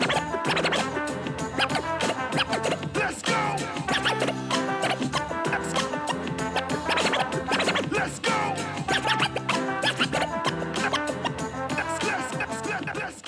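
A Pioneer DDJ-FLX6-GT DJ controller plays its Merge FX scratch demo: rapid, choppy scratch sounds run continuously over a dense, loud music track.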